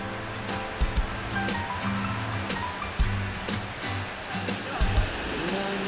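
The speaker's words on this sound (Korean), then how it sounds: "며칠 전 비가 내리더니 숲속엔 폭포가 생겼다" Rain-fed waterfall in a forest, a steady broadband rush of falling water running the whole time at moderate level, with faint scattered knocks and low hum beneath.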